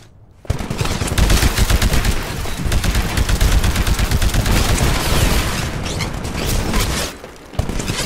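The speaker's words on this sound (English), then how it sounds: "Destroy the Titan with your anti-Titan weapon." Heavy weapon fire pours at a Titan in the Titanfall pilot training level, a loud, dense, rapid barrage of shots and booms that starts abruptly, runs almost nonstop and briefly dips near the end.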